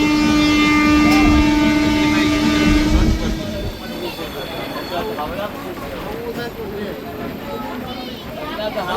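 Train running on a railway toward Puri several hours late, a loud steady rumble with a drawn-out horn-like tone early on, then continuing rolling noise with people talking over it.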